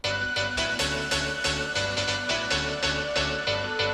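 A bright, buzzy synth line plays over steady electronic backing, repeating a short rhythmic pattern with sustained notes and pulsing bass.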